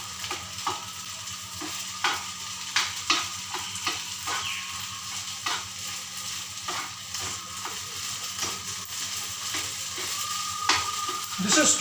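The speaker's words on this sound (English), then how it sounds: "I'm just constantly stirring it" Sabudana khichdi (sago) frying in a pan while being stirred constantly, with a low sizzle under regular scraping and tapping spatula strokes, growing slightly louder toward the end; no speech.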